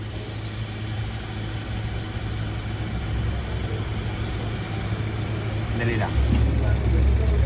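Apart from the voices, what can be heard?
air-conditioning compressor running during pressure check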